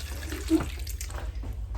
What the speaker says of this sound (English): we just pour the water in until there's a whole bunch in there so the vegetables can get soft